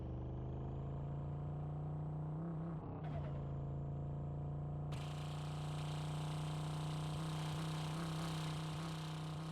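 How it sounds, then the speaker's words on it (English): A turbocharged Ford Mustang engine in Drive Beyond Horizons drones steadily at a low, even pitch, with a faint turbo whine and hiss layered over the constant hum. "You can hear the turbo."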